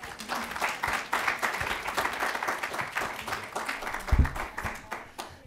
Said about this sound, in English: Give one more round of applause for these guys here.